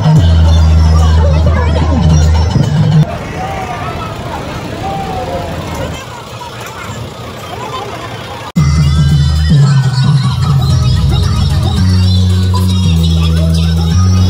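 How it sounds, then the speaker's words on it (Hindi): Festival street crowd in Raipur with DJ music thumping: a steady dense babble of voices and traffic-like rumble, with heavy bass beats cutting in and out, loud and continuous. "यहाँ पे देखिए कितना ज़्यादा भीड़ है और डीजे वगैरह बज रहा है"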